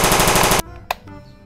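A Captain America toy gun fires a rapid, loud burst of electronic machine-gun sound effects lasting about half a second, then cuts off, followed by one short sharp pop and quieter rattling.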